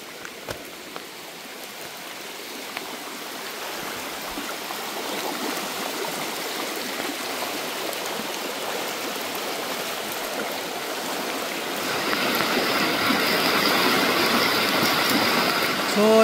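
Rushing floodwater current during Typhoon Kristine, a steady close roar of churning water that grows louder and brighter toward the end, with people talking over it.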